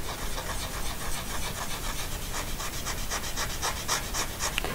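Charcoal smudged across smooth watercolor paper makes a continuous close, dry rubbing and scratching sound with a steady grainy texture and faint rhythmic strokes, heard alone.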